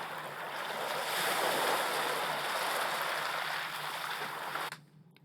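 Ocean waves wash in steadily in an Unreal 4 game demo, a broad, continuous surf roar with gentle swells that cuts off abruptly near the end.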